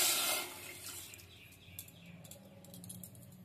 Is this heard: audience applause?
no